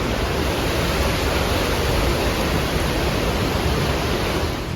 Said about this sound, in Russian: И шум воды такой